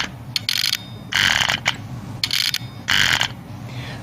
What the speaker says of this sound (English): you can hear the pump. This is the pump just down by my feet.